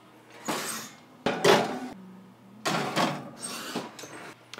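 Tray of rumnog pecan cookies going into an oven, heard as a series of close metallic clatters, scrapes and a door-like thud in separate bursts.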